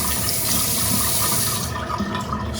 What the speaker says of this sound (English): Just pretty much just sprinkling some water on the brush here.